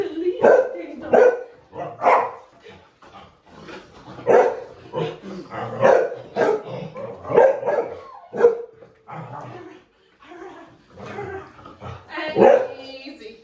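Repeated sharp barks and yips from a dog on a leash outdoors during engagement training, near and loud, coming in irregular bursts with pauses, while someone speaks intermittently between them.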